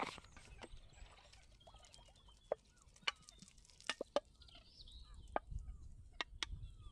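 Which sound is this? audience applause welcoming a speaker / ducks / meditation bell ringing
ducks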